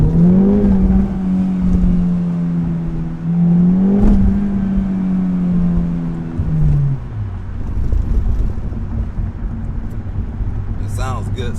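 An Acura Integra Type S with its stock exhaust hums and revs while driving, its engine tone rising and falling over a steady road roar, with a voice heard faintly.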